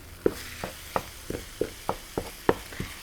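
Meat sautéing in a hot pan, sharp crackling pops and spatters coming at a rough steady rhythm over a low background sizzle, close and clear.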